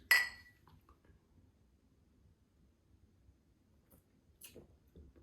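Beer glasses clink once in a toast, a sharp, bright, close ring right at the start that fades fast into near silence, with a few faint clicks and small knocks later.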